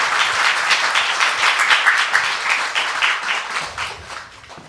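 A lecture audience claps to welcome a missionary speaker onstage at a special midweek talk, loud and close at first with clearly separate clapping bursts, then thinning and fading toward the end.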